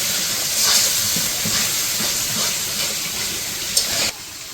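Spices fry for a village-style chicken curry, giving a steady, dense hiss of sizzling in the pan that stays close and even before dropping slightly near the end, with no talk.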